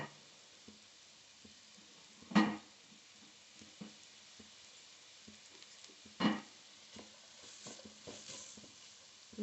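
Grated carrots sizzle softly in a pan for gajar halwa, with a low steady fry broken by two sharper scraping stirs and light ticking of the spoon, faint and close, no talking.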